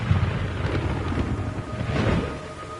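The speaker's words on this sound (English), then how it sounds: "It's raining blood." Rain falling with a deep rumble of thunder rolling through, a broad low roar that swells twice over a constant wash of rainfall, with no voices.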